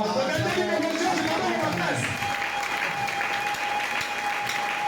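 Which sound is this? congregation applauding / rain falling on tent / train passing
congregation applauding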